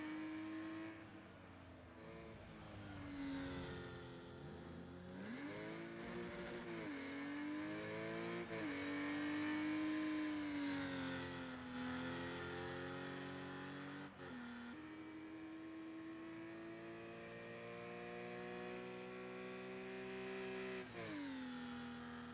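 A GT4 race car engine in a video game whines steadily at high revs on the Rouen Les Essarts short circuit, pitch rising and dipping through gear changes and corners, loud and continuous with no voices.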